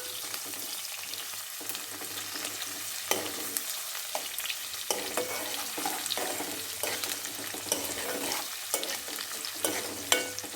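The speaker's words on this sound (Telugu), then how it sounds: "ఇప్పుడు ఆనియన్ తీసుకున్నాను. ఇది కూడా దీంట్లో వేసేసాను. ఫ్రై అవుతుంది." Onions frying in a pan for a prawn curry, an even, constant close sizzle broken by frequent light stirring scrapes and taps, with no one speaking.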